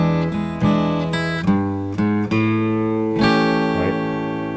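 Acoustic guitar playing a slow blues chord change, with a low bass-string line leading into each new chord: separate plucked notes and strummed chords in an uneven rhythm, close and clear, no voices.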